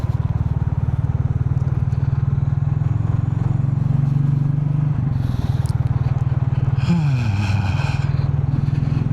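A Royal Enfield Bullet 350 thumps along at a steady low engine pulse while riding over a lumpy road, with rattles and scrapes from the bumps and a brief shift in engine pitch near the end.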